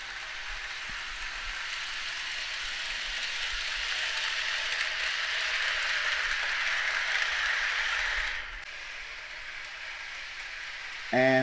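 A small HO scale model train rumbles steadily past with a hissing, rolling noise that swells, then cuts down suddenly near the end.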